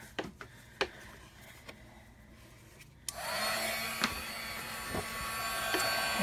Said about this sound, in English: So I'm just going to take my heat tool